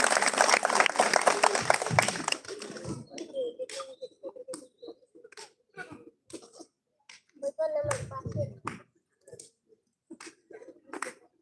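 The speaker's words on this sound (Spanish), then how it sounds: "Un aplauso" Brief burst of audience applause at a Christmas gift-giving event for a community project, dense clapping for about two seconds, then giving way to scattered sounds and talk.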